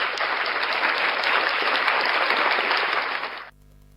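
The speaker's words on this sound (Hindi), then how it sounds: "तालियां।" An audience at a Basant Panchami wedding event in Gwalior breaks into dense, steady clapping that lasts about three and a half seconds, then stops abruptly, leaving near silence.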